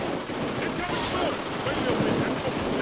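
Dense, continuous gunfire fills a bank robbery shootout in a video game, with rapid overlapping shots under ongoing talk.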